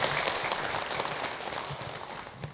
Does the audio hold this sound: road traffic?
no